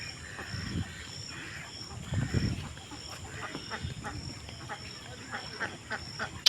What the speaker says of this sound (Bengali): হাঁস, হাঁস আর হাঁস, হাঁসের খামার।